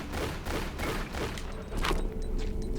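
Gunfire from shooting rats in a Tomb Raider custom level, a rapid string of dull game shots at a steady rhythm, loud and close with no talk.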